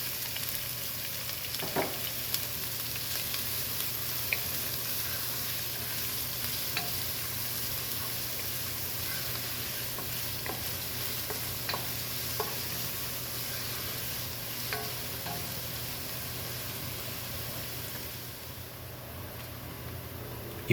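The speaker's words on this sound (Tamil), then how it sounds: "ஃபைனாக சாப் பண்ண வெங்காயத்தை சேர்த்து ஒரு நல்ல மீடியம் ப்ரௌன் ஆகிற வரைக்கும் நம்ம ரோஸ்ட் பண்ணணும்" Chopped onions roast in oil with cumin for aloo gobi masala, making a steady, close sizzle that holds for a long stretch with a few faint stirring clicks and no voices.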